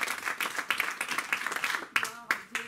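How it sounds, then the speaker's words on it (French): A church congregation applauding during a sermon, a dense ripple of clapping that thins into a few separate claps near the end. "Donnons une acclamation au Seigneur."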